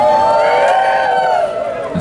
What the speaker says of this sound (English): clap your hands and make some noise